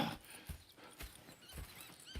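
Horses in the video game Red Dead Redemption 2, with hooves clip-clopping in an irregular rhythm alongside snorts and faint whinnies, moderately close and fairly quiet.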